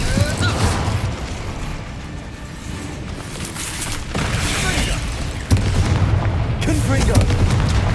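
A fire spell, Incendio, cast in Hogwarts Legacy combat gives a dense, roaring burst of blasts and whooshes, steady and loud throughout, with sharp impacts near the middle and end.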